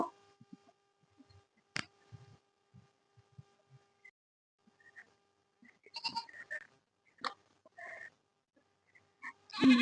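Scattered goat bleats and small movement noises come in short bursts amid quiet, a few calls clustering near the end, fairly close, as the goats stir at fresh grass brought for feeding.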